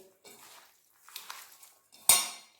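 Chicken pakora batter mixed with chilli powder, salt and spices in a bowl, with soft squelching stirs followed by a sharp clink of a utensil against the bowl, close up.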